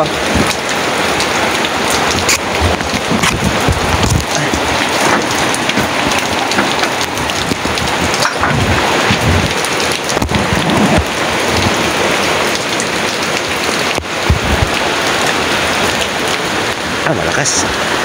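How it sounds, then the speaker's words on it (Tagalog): Heavy, steady typhoon rain pours down continuously, with occasional low thunder rumbles beneath the downpour. "Dito pa lang banatan na tayo ng ulan ah."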